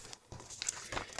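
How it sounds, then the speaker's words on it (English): Paper snips trimming paper over an envelope flap in card-making, a few quick crisp snips and rustles, close and fairly quiet. "Take your paper snips and trim it down."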